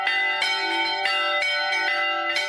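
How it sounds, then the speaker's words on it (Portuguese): Bells of centuries-old churches in the city of Goiás, Brazil, ring out in repeated clear, resonant strikes with a long sustained hum between them, fairly close and alone. "Os sinos das igrejas centenárias anunciam as homenagens a José Joaquim da Veiga Vale"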